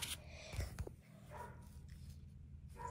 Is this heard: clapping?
no